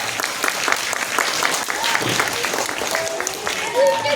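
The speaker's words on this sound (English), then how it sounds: "So please give them a huge round of applause." Audience applause for children who performed in a school fancy dress competition, a steady dense clatter of many hands lasting throughout, with a few voices and faint tonal sounds rising over it near the end.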